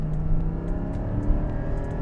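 Porsche 718 Cayman GT4 with stock exhaust, its engine giving a steady, close, throaty growl with a slight rise in revs, heard alone without voices.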